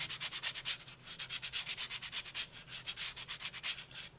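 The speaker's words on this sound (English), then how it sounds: "I just take a piece of flat sandpaper." Fast, rhythmic back-and-forth rasping of flat sandpaper on a wooden drawer box, many even strokes in quick succession, close up.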